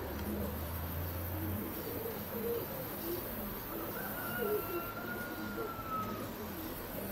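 Greek Wuta pigeons flying outdoors, with soft cooing calls scattered over steady broadband noise while people talk nearby.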